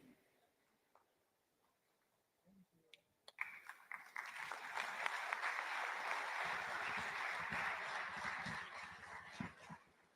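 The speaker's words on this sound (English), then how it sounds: "That truly deserves a thrilling round of applause, ladies and gentlemen" Audience at a fintech festival where the RBI Governor spoke breaks into sustained applause after a quiet start, a broad steady clatter of many hands that builds quickly and holds at full strength to the end.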